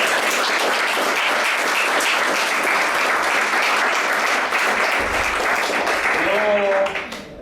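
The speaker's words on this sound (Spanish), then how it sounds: "Un aplauso, por favor." Audience at a political forum gives a long, full round of applause, thick continuous clapping that holds steady for several seconds, then tapers as a voice begins speaking at the end.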